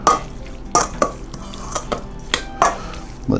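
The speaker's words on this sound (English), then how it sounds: "I'm gonna give these a mix." Raw chicken hearts are stirred in a bowl, wet squelching and scraping strokes up close, repeating every half second or so in an uneven rhythm.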